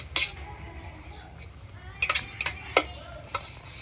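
Mutton being kosha-fried in a pot, with a steady low sizzle and scattered sharp metallic scrapes and clinks of a spoon against the pot, several clustered near the end.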